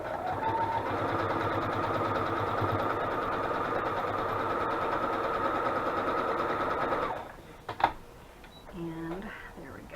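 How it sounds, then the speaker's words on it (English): A sewing machine stitches through paper pockets for craft ephemera, a steady close mechanical whir that runs without pause for about seven seconds and then stops, followed by a few brief handling sounds. "that's all the sewing I'm going to do on these"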